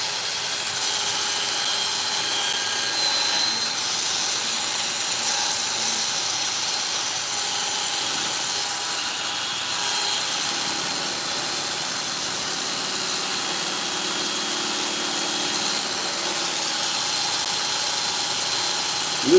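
A battery-powered reversible sander works on wood on a lathe during woodturning, giving a steady whirring drone that runs almost unchanged for about twenty seconds, close and fairly loud, with no talk.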